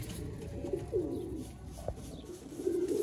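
Ferozpuri pigeons coo close by in a few soft, throaty rolling calls spaced across the moment, over a low background hum, with no talking.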